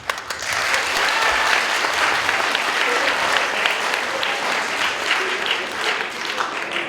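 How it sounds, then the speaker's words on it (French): Sustained audience applause at a school awards gala fills the room for about seven seconds, a dense, even wash of many hands clapping with no talk over it. "Veuillez aussi applaudir nos assistants"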